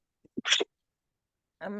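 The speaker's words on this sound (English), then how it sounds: "cutest little sneeze I've ever heard in my life" A small, soft sneeze sounds close by, two tiny intake catches and then a quick, bright burst, followed after a pause by the start of a voice.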